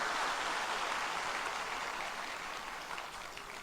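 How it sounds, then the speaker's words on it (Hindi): Crowd applause welcoming Rahul Gandhi at an Adivasi gathering in Vadodara, a dense, steady wash of clapping from a large audience that slowly fades over several seconds. "एक बार जोरदार तालियों से हम उनका स्वागत करते हैं।"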